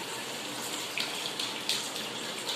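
Heavy rain with water seeping and running from a wall of a new house, heard as a steady wash of splashing and trickling, close and fairly quiet with no talk.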